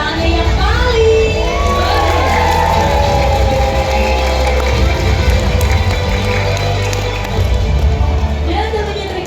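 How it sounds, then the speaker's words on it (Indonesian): A crowd at a tiger show cheers and shouts loudly, with children's voices among them, in a dense, continuous roar lasting the whole stretch under a low rumble. "terima kasih atas sambutan tepuk tangan meriah dari Anda"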